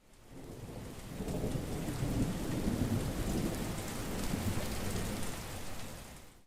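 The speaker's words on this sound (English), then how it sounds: "You take your first steps, and as it seems, it's heavily raining." Heavy rain pours steadily in a horror video game while low thunder rumbles through the downpour, swelling after a quiet start and staying loud and continuous with no voices.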